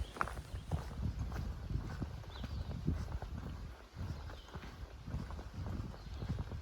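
Horse on a farm beside the Appalachian Trail, its hooves clip-clopping in a loose walking rhythm close by, fairly quiet, with a few soft snorts and no talk.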